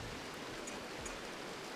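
Steady rain in the colony-building game Rimworld, a soft, even hiss of falling water running quietly and continuously with no voices over it.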